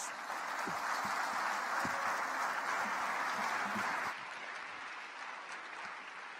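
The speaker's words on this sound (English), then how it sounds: "Another round of applause, please" An audience at a youth summit's closing ceremony applauds in a dense, steady wash of clapping that holds at a moderate distance, then drops slightly in level partway through and continues.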